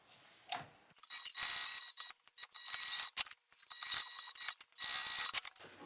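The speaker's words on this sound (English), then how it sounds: "So let's go ahead and sew this now." A sewing machine top-stitching fabric runs in two main bursts of rapid mechanical clatter with a thin whine, broken by short pauses and small clicks, close and fairly loud.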